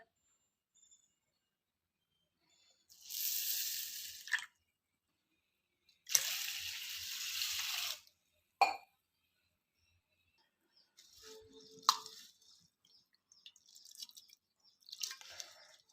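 Ration rice is washed by hand in water, with close, splashy swishing bursts separated by silent pauses, followed by softer scattered drips and sloshes.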